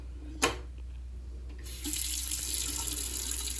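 A bathroom sink fitted with a pop-up stopper, with a sharp click near the start followed by water from the tap running steadily and loudly into the basin, with no voices.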